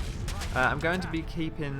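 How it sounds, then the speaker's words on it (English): Cannon fire in the Age of Empires 3 WarChiefs strategy game during the Battle of Morristown: a string of booming shots with some spoken voice mixed in under the battle noise. "we're going to let the cannons do the work"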